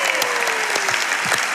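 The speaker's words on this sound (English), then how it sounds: "Let's give a good clap." Church audience clapping together, a brief dense burst of applause with a few distinct sharper claps standing out.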